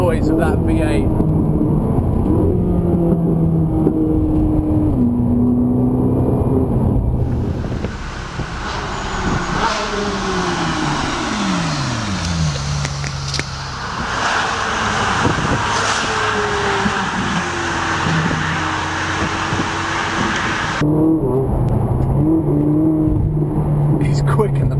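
Ferrari 458 Italia V8 engine revving and accelerating, loud and close, with rising and falling pitch sweeps as it pulls through the gears, steady road noise underneath.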